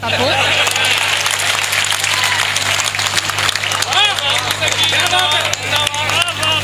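Audience applause at a Hindi comic poetry gathering, sustained clapping from a large crowd, with a steady background hum and faint hubbub running through it.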